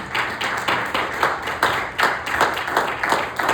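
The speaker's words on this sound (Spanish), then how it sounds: "Y la aplauso para Cristo, déselo con todas las ganas" A church congregation applauding for Christ during a Spanish-language service, steady close clapping in uneven surges with no talk.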